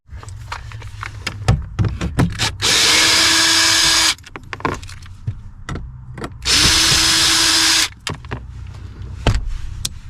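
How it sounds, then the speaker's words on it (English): Power screwdriver or drill whirring in two steady bursts of about one and a half seconds each while removing an old CB radio under a Bronco dash, separated by close clicks, taps and handling knocks. "Need a screwdriver."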